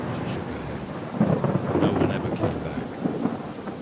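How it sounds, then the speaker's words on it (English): A storm sound effect with rumbling thunder and steady rain, played at moderate level as a continuous wash that swells slightly midway, with no talk over it. "Behind her, the storm roared."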